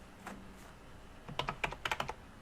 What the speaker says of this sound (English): As you start typing